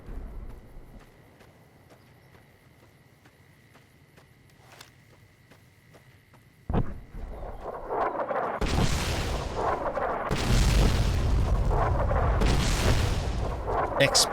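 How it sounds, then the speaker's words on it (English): Explosions in the video game Fallout New Vegas, a sudden sharp boom followed by a dense rumbling barrage of blasts and gunfire that grows loud and continuous after a quiet stretch with faint game ambience. "Explosions."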